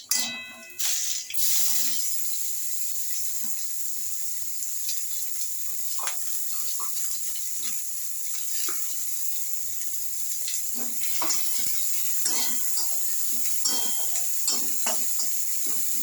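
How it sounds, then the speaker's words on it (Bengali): Chopped onion goes into a pan of hot oil tempered with black and white cumin seed, for a taro curry, giving a steady close sizzle with scattered crackles and small clinks, and no voices. "পেঁয়াজটা দিয়ে দিচ্ছি।"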